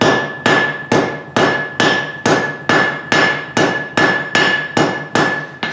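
A power hammer pounds the point onto a quarter-inch round steel rod in a fast, even rhythm, about a dozen loud, close metallic blows each ringing briefly, with no voices.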